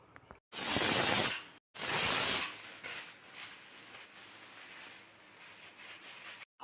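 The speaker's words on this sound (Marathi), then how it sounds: "जेणेकरून ते 3 शिट्ट्यामध्ये कुकर लावल्यावर मटण शिजून जाईल." A pressure cooker cooking mutton lets out two loud, hissing whistle bursts in quick succession, each about a second long, followed by a quieter lingering hiss of escaping steam.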